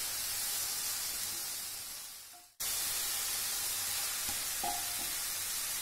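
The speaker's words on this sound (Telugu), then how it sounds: "వెల్లుల్లిపాయ, 1/2 టేబుల్ స్పూన్ పసుపు అండి. బాగా బ్రౌన్గా వచ్చేటట్టు వేయించుకుందాము." Garlic and turmeric fry in a pan with a steady broadband sizzle, briefly cut to near silence halfway through, then resuming with small stirring clicks.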